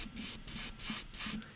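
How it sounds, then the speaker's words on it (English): An airbrush sprays primer onto a model miniature in four short hissing bursts of about a quarter second each, close and fairly loud, separated by brief pauses. "I'm getting really good atomization from this airbrush."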